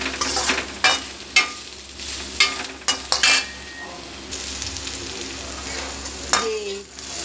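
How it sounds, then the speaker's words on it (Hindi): Bitter gourd pieces fry in a wok with a steady close sizzle, broken by several sharp stirring scrapes and clinks of a spoon against the metal. "अभी इसको थोड़ा और हम भूनेंगे क्योंकि अभी ये गले नहीं है।"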